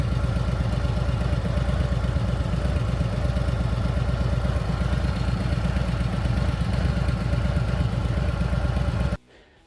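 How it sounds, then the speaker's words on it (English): A 2024 Harley-Davidson Road Glide V-twin runs rough with its traction control light on, a loud, close, uneven chugging idle that goes on steadily and then cuts off abruptly near the end. "I did take a clip before I shut the bike off the second time when it was running like crap"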